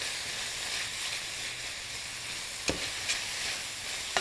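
Garlic and cracked pepper stirred in a sizzling pot of chicken and Italian sausage stew: a steady frying hiss runs throughout, broken by a few soft clicks of the spoon against the pot.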